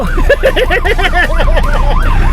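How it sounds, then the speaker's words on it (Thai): A vehicle siren wails loudly and close, rapid rising and falling sweeps that repeat in a fast warbling pattern, then slow into longer wavering cycles. "โอ้ยรถมีไซเรนมีเสียงหวอหวออ่อยด้วยฮะ"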